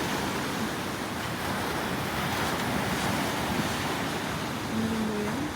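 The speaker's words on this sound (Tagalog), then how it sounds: "Sarap ng alon o" Sea waves washing onto a beach in Surigao, a continuous loud surf rush mixed with gusty wind buffeting the microphone, with a brief faint tonal sound near the end.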